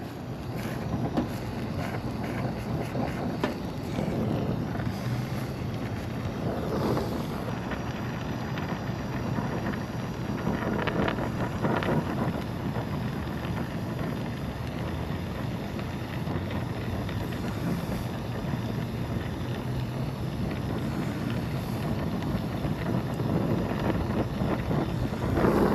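Steady outdoor wind buffeting a microphone during an HVAC condenser install, a continuous low rumbling roar with occasional gusts swelling and fading over the whole stretch.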